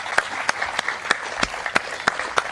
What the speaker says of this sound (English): So another round of applause for Steve Pringle and his group.